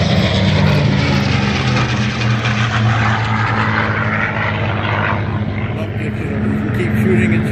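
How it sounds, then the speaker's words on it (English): A P-51D Mustang propeller fighter in the blue-nose markings of the 352nd Fighter Group flies over an air show, making a loud, steady, rumbling engine drone that fills the scene, with a voice faintly underneath. "P-51D Mustang. These are the 352nd fighter, a very distinctive blue nose Mustang."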